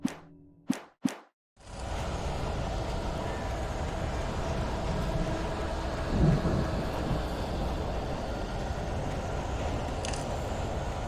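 A thunderstorm from the video game Alan Wake: a few sharp cracks at the start give way to dense, continuous rain and rumbling thunder, with a brief swell midway.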